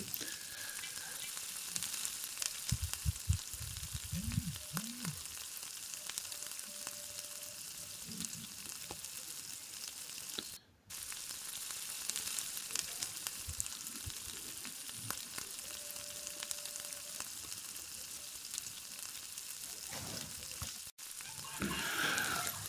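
Besan (gram flour) roasting in a pan over a low gas flame, a soft steady sizzle with occasional stirring scrapes, faint and continuous under quiet background, with brief dropouts.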